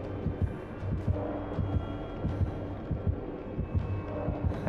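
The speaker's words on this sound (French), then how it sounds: "J'ai des battements de cœur de fou." Pounding heartbeat from the horror game Dead by Daylight, a steady low double-thump repeating throughout over a droning hum, loud and close with no talk.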